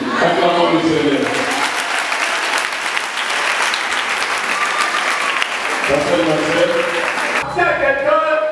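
A church congregation bursts into loud, sustained applause and cheering during a worship service, dense clapping filling the room for several seconds while a voice rises over the crowd near the end.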